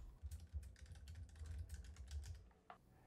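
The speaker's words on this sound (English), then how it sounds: "Go to Search in the taskbar and type Create a Restore Point." Rapid typing on a computer keyboard in a Windows search box, a steady run of close, crisp key clicks with brief pauses and no voices.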